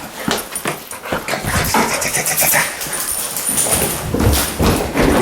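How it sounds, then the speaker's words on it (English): A Labrador romps through a house during play, with scrabbling paws, thumps and movement noise filling the clip, loud and close throughout, without speech. "a completely gratuitous clip of my Labrador and I playing"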